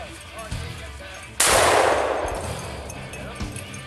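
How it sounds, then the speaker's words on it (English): A shotgun fires once at a cock pheasant during an upland bird hunt, a sharp loud blast with a long fading tail over faint outdoor background. "Yeah, good shot, Anthony."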